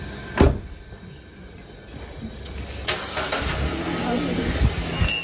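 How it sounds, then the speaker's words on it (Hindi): A car engine turns over and starts after a sharp thump, then idles with a rising rumble as the car is about to reverse, while people talk nearby. "अब मेरा रिवर्स का इम्तिहान है, अब मैं करने लगी। चलो रिवर्स होगी गाड़ी"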